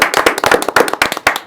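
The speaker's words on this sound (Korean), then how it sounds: "박수로 환영합니다." A small studio audience claps to welcome a Korean broadcast show, giving brisk, close, irregular hand claps with no talking over them.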